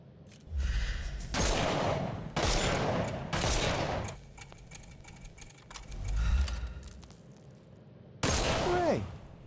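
Gunfire in the video game Sherlock Holmes Chapter One shoots the armor off enemies: loud rapid volleys of shots in several bursts with clattering impacts, and a rising whistle-like effect near the end.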